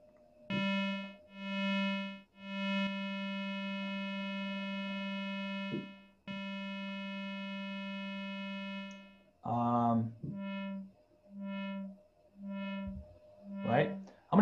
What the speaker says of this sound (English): I'm going to play the sound. I'm going to go to a sine wave actually.